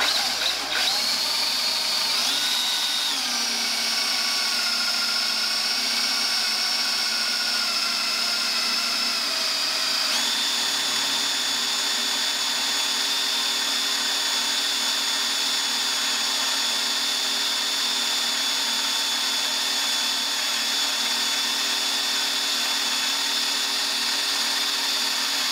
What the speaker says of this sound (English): Doing a nice job of drilling.